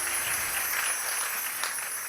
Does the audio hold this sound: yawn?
no